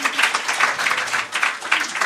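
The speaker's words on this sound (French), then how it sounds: "Merci, bravo. Applaudissez-la." A theater audience at a live comedy show in Marseille claps steadily and fairly loudly in a dense, continuous patter throughout, with faint voices mixed in.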